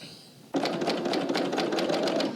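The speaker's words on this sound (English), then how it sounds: "and we will serge those seams" A serger overlocker starts abruptly and runs steadily at close range, sewing the seams of a top with a fast, even whir.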